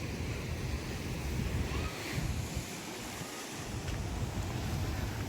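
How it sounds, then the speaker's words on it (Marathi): Surf and wind on the Konkan coast at Harihareshwar: a steady, loud roar of breaking sea waves mixed with gusty wind buffeting the microphone, continuous throughout with no clear individual wave breaks. "तर चला आता आपण समुद्राच्या अगदी जवळ जात आहे"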